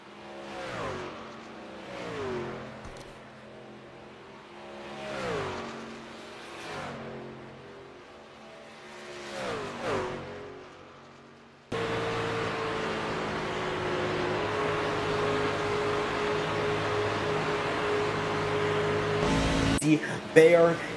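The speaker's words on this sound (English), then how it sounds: "And now Coots battling big as they go right by the 65." Race cars roar past one after another with rising and falling engine whines, followed by a sustained, steady engine drone, while a commentator talks over the racing.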